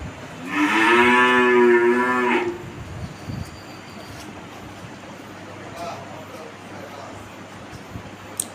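A Holstein Friesian cow at a farm lets out one loud, drawn-out moo lasting about two seconds, followed by quieter background noise and a small knock near the end.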